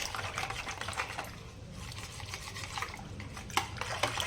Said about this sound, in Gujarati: અહીંયા ગાંઠા નીકળી જાય ત્યાં સુધી આપણે તેને મિક્સ કરી લઈશું